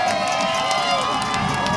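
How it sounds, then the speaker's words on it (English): A home crowd at a Bayport high school football game roars and cheers in a dense, sustained wall of voices after a winning play, with no single voice standing out. "this crowd here at Bayport roars their approval"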